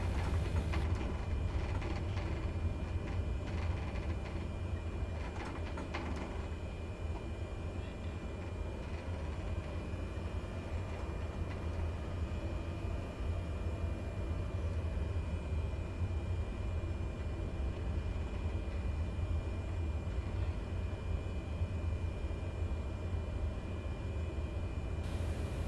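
Cessna Grand Caravan 208B turboprop engine in Microsoft Flight Simulator, a steady low drone with a faint high whine, constant and moderately quiet throughout, with a few light clicks early on.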